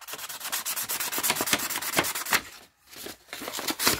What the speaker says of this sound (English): do some sanding. Give it a nice look.